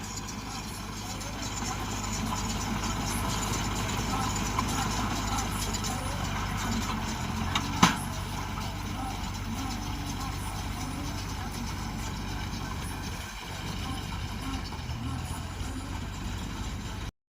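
A tractor engine runs in a field during baling, giving a continuous low diesel drone that holds steady throughout with little change, and someone talks over it.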